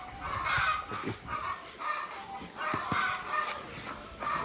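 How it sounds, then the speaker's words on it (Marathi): Hens cluck and squawk in repeated bursts after one lays an egg, moderately close, in a goat-farm yard with occasional faint thumps and movement. "त्या कोंबडीने अंडी घातले त्यामुळे कोंबड्या ओरडायलीच"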